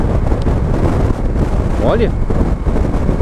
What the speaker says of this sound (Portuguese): É um vórtice de vento dentro do capacete, vocês não fazem ideia